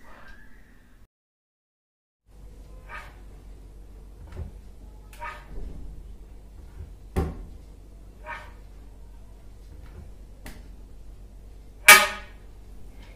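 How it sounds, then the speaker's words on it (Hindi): A dry door hinge creaks and squeaks in several short, separate bursts over a low background hum, ending with one sharper, louder squeal. "इस तरह की आवाज़ हम सभी के घरों में दरवाज़ों से या वार्ड्रॉप से"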